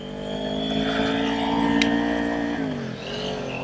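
A Kawasaki Ninja 400 motorcycle rides off. The engine hums steadily and close, with its pitch shifting as it accelerates, and wind noise runs over it.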